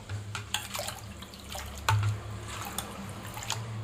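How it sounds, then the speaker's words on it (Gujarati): Mint-and-coriander water is poured from one cooking pot into another, giving a quiet, close liquid trickle with small splashes and clinks of metal. "અડધો ભાગ હવે બીજી તપેલીમાં હું કાઢી લઉં"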